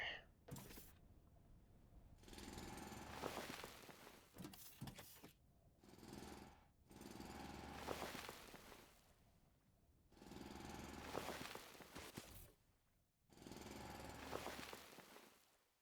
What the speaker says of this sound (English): let's drill up and out here